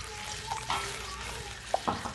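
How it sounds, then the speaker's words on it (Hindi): Chicken with ground black pepper sizzling steadily in a pan for a hot and sour soup, a constant frying hiss with a few soft stirring knocks. "अभी मैं इसको फ्राई करूँगी।"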